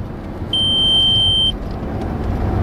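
An Audi A3 1.8 turbo from the 1990s sounds its low fuel reserve warning, a single sustained high-pitched beep lasting about a second over the low rumble of the car's interior.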